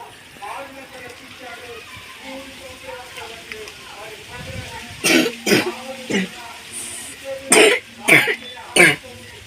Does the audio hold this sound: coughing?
yes